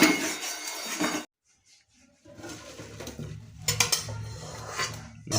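Cooking pot handled while draining boiled banana flower, with clattering metal knocks and clinks in two bursts separated by a quiet gap, close and fairly loud.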